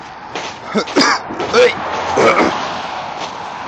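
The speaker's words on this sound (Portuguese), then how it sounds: "É minha tosse de sempre." A person coughs and clears their throat in a few rough, raspy bursts close by, in a quiet, snowy outdoor setting.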